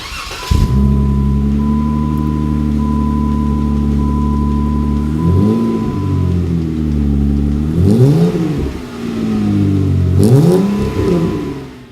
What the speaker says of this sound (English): Our MagnaFlow catback exhaust is installed. It looks way better with that big ugly muffler out of the way. It sounds better too.